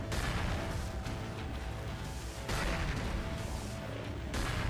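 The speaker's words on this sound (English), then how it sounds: "I'm gonna throw some grenades at it." Grenades going off in the video game Cryptark, a dense run of loud booming blasts and crashes with a couple of sharper hits, continuous and heavy throughout.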